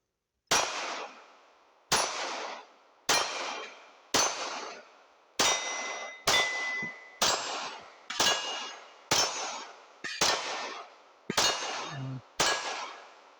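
About a dozen 125-grain full metal jacket rounds strike steel targets at a steady pace of roughly one per second, each a sharp ringing clang with a long metallic decay, fairly loud and with no talk.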